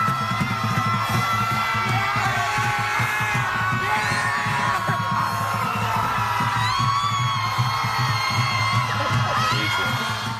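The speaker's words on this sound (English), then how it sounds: "Some of them screamed at the sky last night on the first anniversary of her loss." A crowd of protesters scream and yell together outdoors, a dense, loud, continuous roar of many voices with whoops and shouts rising over it.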